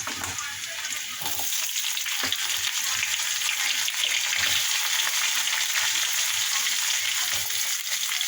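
Cut potatoes frying in oil with cumin and garlic, a loud continuous crackling sizzle heard up close, with light stirring scrapes.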